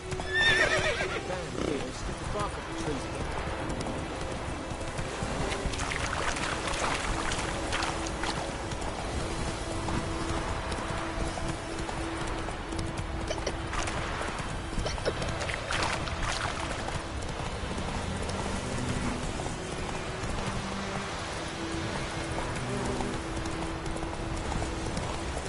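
Horse hooves clip-clop steadily through a continuous outdoor soundscape in The Witcher 3, with occasional whinnies and shouted commands to the horse over busy ambient noise and a low background drone.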